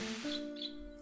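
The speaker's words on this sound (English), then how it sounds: "Birds. Birds. More birds." Birds chirp in the Alundra video game, a couple of short high tweets over a steady tonal background, faint and close together.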